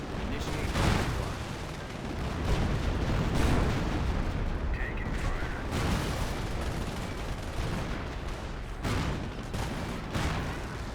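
Booming artillery fire in the Company of Heroes battle game, dense and continuous, with heavy blasts and explosions rolling over one another throughout, while a voice speaks over the barrage.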